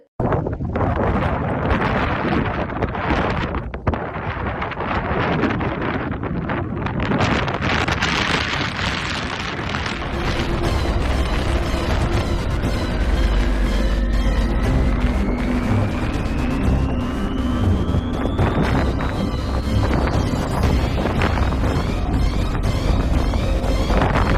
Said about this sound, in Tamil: சூறாவளி காற்றை சமாளிக்கும் விதமாக விமானத்தை விமானி லாவகமாக கிராஸ் லேண்டிங் செய்ய முயற்சிக்கின்றார்